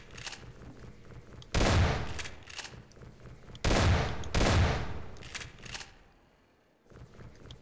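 Heavy weapon fire from the Shock Therapist shotgun in Garry's Mod: several loud, broad blasts with ringing tails, spaced irregularly, then a brief lull before another shot.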